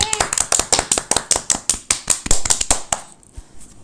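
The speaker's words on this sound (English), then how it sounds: "Clap it." Steady rhythmic hand clapping after a children's multiplication table song, about twenty crisp claps at an even brisk pace, loud and close, stopping near the end with a few faint taps.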